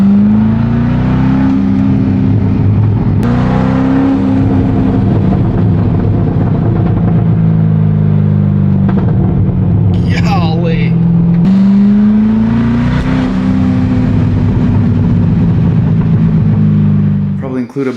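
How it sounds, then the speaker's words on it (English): A Chevrolet Corvette C6 with its muffler deleted drones loudly and steadily, a deep rumbling exhaust note that rises and falls in pitch through a couple of gear changes, with a brief higher-pitched sound partway through. "I didn't get as many clips as I wanted to get of the C6 with the muffler delete."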